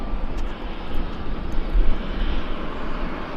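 Jet airliner engines at Vancouver airport make a steady, broad roar that swells slightly and stays loud and close throughout, with no talking.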